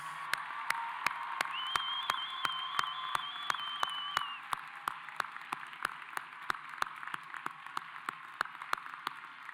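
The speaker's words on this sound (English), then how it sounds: "Let's give another round of applause" An audience applauds graduates at the WCU College of Health Sciences Class of 2023 ceremony, a steady wash of clapping in a large hall that fades slightly partway through, with sharp, regular clicking sounds running throughout.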